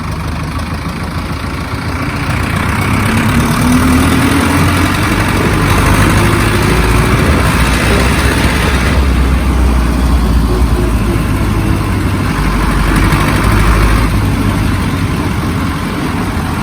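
A 5911 tractor engine idles steadily close by, a low, even rumble with mechanical vibration that holds constant throughout without revving.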